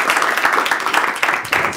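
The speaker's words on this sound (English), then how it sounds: "let's all give Nick a big round of applause" Audience applause for a prize winner at a lecture event on tidal disruption events and black holes, a steady dense wash of clapping lasting the whole moment, fairly loud and close, with a brief voice mixed in.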